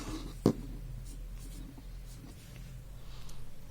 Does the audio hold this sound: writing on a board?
yes